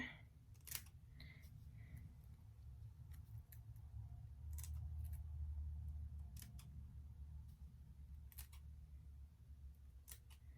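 Scissors snip through wig lace in a zigzag pattern, a series of short, crisp, quiet cuts spaced irregularly over a low steady background hum, with no talking.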